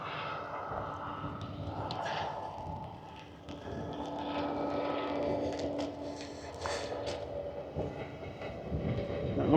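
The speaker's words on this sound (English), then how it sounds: "Oh, another train." Train passing near Gainsborough's Trent Bridge on a walk from Bole Fields, a rumbling rail roar with wheel noise and a droning tone that builds and swells toward the end, no talking.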